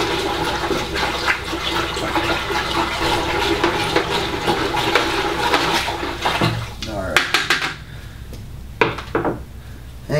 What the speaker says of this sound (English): And go ahead and give this a nice good stir.